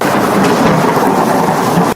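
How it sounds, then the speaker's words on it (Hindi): Thunder rumbles through a heavy rainstorm at night, a steady broad roar of rain mixed with low booming thunder, loud and continuous with no voices. "आकाश में बिजली कड़क रही थी।"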